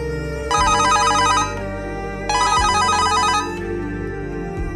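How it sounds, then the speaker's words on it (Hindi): A phone rings with an incoming call, giving two electronic ringtone bursts separated by a short pause. The ringing is loud and close, over a steady low background, with no talking. "फोन पर शर्मा अंकल का कॉल आता है"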